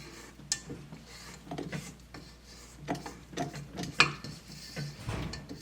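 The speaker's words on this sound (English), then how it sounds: "I am just going to scrape down the sides of my bowl here." Spatula scraping down the sides of a KitchenAid mixer bowl while making holiday shortbread cookie dough: quiet, intermittent scrapes and knocks in a soft irregular rhythm, close by, with no talk.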